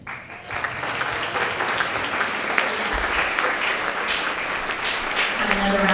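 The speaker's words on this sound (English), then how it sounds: "Let's have another round of applause for all of our Tigers of the Quarter in the area of social studies." Sustained applause from a school assembly crowd honoring middle school award-winning students, a dense steady wash of many hands clapping at close range with faint voices mixed in, continuing evenly throughout.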